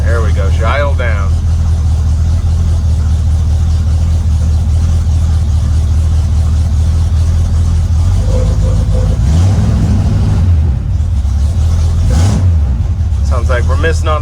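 Old car engine idling rough and low with a faint miss on one cylinder, a loud close rumble that drops and settles midway, with voices talking over it.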